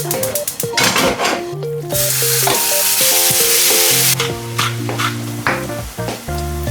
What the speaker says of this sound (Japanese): しっかりミンチにして焼きます